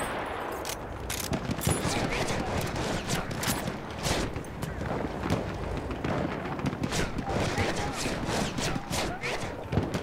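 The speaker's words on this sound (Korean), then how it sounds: "오 총알 날아가는 소리" Dense, continuous gunfire fills a Battlefield 1 battle, with rapid machine-gun bursts, sharp cracks and bullets whizzing past, loud and unbroken throughout.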